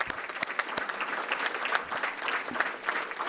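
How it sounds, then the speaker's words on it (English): Scattered, moderately faint applause from an audience at a police department milestone ceremony, individual claps standing out in an uneven patter. "Give yourself a huge round of applause."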